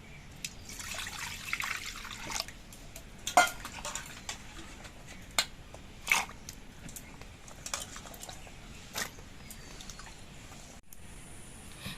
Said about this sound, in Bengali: এবার এগুলো আমি ধুয়ে পরিষ্কার করে নিচ্ছি